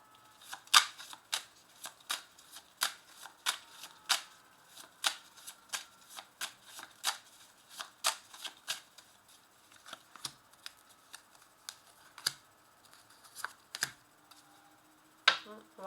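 Oracle cards are added to a deck and shuffled during a tarot-style reading, with a long series of sharp, rhythmic riffle snaps about every half second, close and clear against a quiet background, with no talking.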